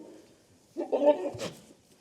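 A short, nasal goat bleat from nearby on a farm, rising briefly and fading, with quiet background otherwise.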